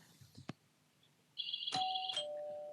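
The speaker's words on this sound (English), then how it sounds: "My bell went before" An electronic two-tone chime rings out once on a televised school quiz competition, loud and sustained on its own after a soft click.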